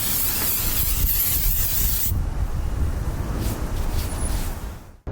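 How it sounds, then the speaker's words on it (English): An aerosol can of wax and grease remover sprays onto a car headlight in one long, loud, close hiss that changes tone partway through and cuts off at the end. "Then I'm ready to clean it with some wax and grease remover."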